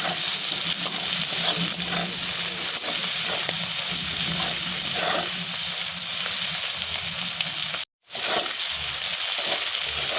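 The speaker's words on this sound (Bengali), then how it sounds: "ভাজা ভাজা করে নেব" Shrimp fry in a pan with turmeric and salt, giving a loud, continuous sizzle with crackling spatter that runs steadily, broken only by one brief silent gap near the end.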